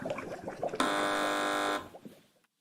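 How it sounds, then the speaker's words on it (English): A quiz show contestant's buzzer blares once for about a second, a loud steady electronic tone with rich harmonics cutting over background chatter and laughter from a studio audience. "Fingers on buzzers"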